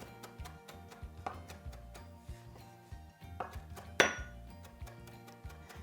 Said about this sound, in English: we're gonna mince it pretty finely, even though it'll cook a bit in the cornbread while it's baking